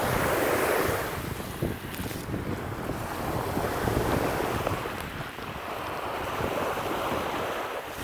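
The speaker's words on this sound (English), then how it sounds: "Enjoy the waves" Ocean waves rolling and breaking on a beach, with a steady wash of surf and strong wind buffeting the microphone throughout, loud and continuous with no voices.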